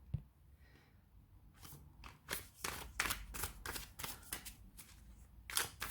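A glossy tarot deck is shuffled repeatedly, a series of crisp riffling bursts and soft flicks close up, with quiet pauses between them.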